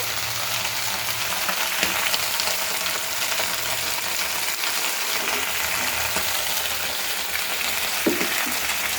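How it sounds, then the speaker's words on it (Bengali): Onion stalks and potato pieces frying in oil in a pan, a steady close crackling sizzle with occasional sharper pops and stirring clicks, no talking. "আমার মা তেল দিয়ে তারপর পেঁয়াজ কলি এবং আলু দিয়েছে। এখন রান্না হচ্ছে।"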